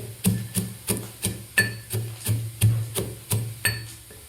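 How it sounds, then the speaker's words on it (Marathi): Peanuts pounded coarsely in a stone mortar and pestle: steady, evenly spaced dull thuds, about three per second, each with a brief gritty crunch, close and moderately loud with no talking. "शेंगदाणे कुटून घेतलेले आहेत खलबत्त्यामध्ये"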